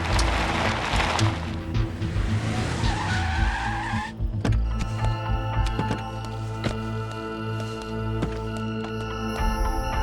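A car's tires squeal and skid sharply as it brakes hard on the road, followed by the engine idling with a steady rumble and tonal hum.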